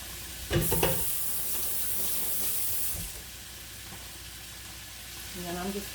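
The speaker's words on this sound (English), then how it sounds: "Pan sizzling." Wet home-fry potatoes dropped into a hot pan burst into a loud crackling sizzle, then settle into a steady hiss of frying for several seconds, with a faint clink near the end.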